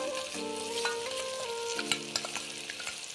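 Pea kachori filling fries with spice paste in a pan, a steady close sizzle broken by scattered stirring scrapes, with background music playing underneath.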